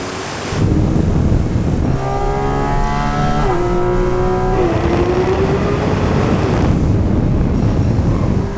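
Porsche GT3 RS racing in the Roblox game Driving Empire, a loud, steady engine drone that climbs through rising revs, dips at shifts and holds a constant roar over wind-like rushing noise throughout.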